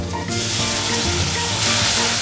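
Ginger, garlic and dried red chilli paste sizzle and crackle in hot frying oil, a loud, steady hiss close to the pan with no talking.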